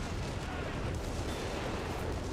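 Off-map artillery in Company of Heroes 3 pounds the battlefield as a dense, rumbling wash of blasts and explosions, steady and loud throughout.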